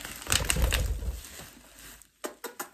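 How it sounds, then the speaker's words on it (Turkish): A pet budgerigar chirping indoors in a series of short, bright chirps and squawky calls, with some rustling and soft thumps between them. "bu da muhabbet kuşu"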